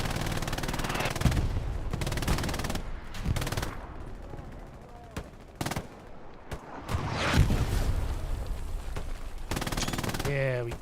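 Video game machine guns firing from a rooftop in repeated rapid bursts, loud and close, separated by short pauses, with occasional heavier booms between them.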